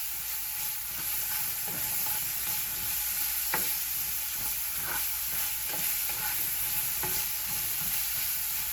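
Floured fish frying in a pan for a Caribbean stewed fish, a steady close sizzle and hiss with occasional soft scrapes and taps of a utensil spreading the pieces.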